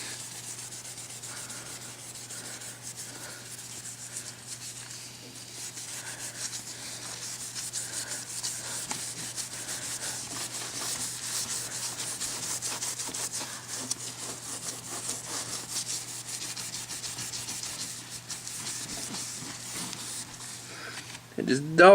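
A painted trailer wheel being scuffed by hand to dull its finish, a continuous close dry rubbing and sanding rasp that carries on steadily for the whole stretch, with a brief louder scrape at the very end.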